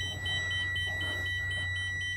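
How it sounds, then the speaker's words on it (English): A steady high-pitched electronic alarm tone from a Renegade Valencia motorhome sounds continuously on turning the ignition, with a faint pulsing beep pattern over a low engine-like hum. "that alarm goes off almost every time when you turn your ignition on"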